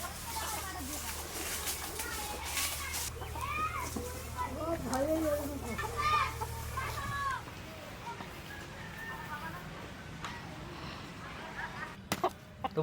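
Free-roaming village hens with small chicks cluck and call close by, their short clucks scattered under steady talking and other outdoor background noise.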